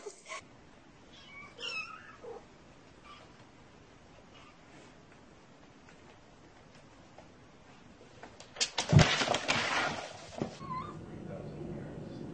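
A cat meows a few times, quiet and somewhat distant, and near the end there is a louder burst of rustling and clatter.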